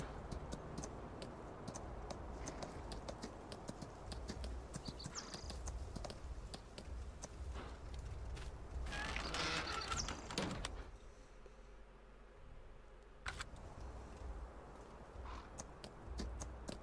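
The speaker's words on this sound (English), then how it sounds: "Let's go for a 5-minute trot, get your exercise in." A horse trots in the Farm Sim 19 farming video game, its hooves giving a quick, steady clip-clop over a constant background wash, fairly faint with a louder burst midway.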